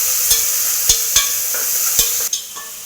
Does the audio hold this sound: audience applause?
no